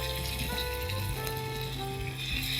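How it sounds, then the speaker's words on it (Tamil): Chicken pieces dropped into hot oil sizzle and crackle steadily and loudly for a Palakkad-style chicken fry, with a dense, continuous frying hiss close by. "இந்த எண்ணெய் நல்லா சூடான பிறகு இந்த சிக்கனை போட போகிறோம் இப்போ வந்து சிக்கன் இதில் போடுறோம்"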